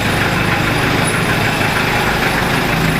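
A rebuilt Toyota 5L diesel engine runs steadily at idle, a loud, close, continuous clattering rumble with no pauses and no talking.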